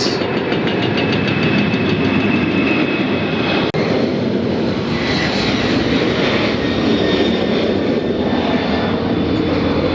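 FedEx heavy jet engines at Memphis airport produce a loud, continuous roar with a broad rumble and a thin high whine throughout, steady and close, with no talking.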